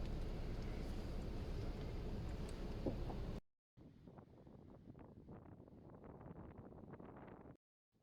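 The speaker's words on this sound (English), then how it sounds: "A little bit windy outside. I mean, it's not just a little breeze, it's actually quite strong." Strong wind blows outside a van parked by a lake under big oak trees. Steady buffeting rushes and roars for about three seconds, drops out briefly, then returns as softer, gusty noise.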